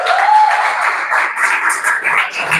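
A church congregation applauds together, a dense, steady wash of clapping that fills the room for a few seconds with slight swells and no clear single claps.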